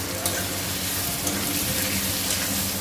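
Tomato and green chili frying in a pan with onion, a steady close sizzle with occasional stirring, no talking.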